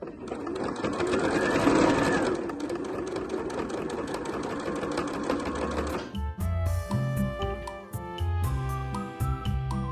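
A sewing machine stitches a fabric organizer, running in a dense, fast whir for about six seconds before shifting to slower, uneven bursts of stitching with clicks, heard up close with no talk.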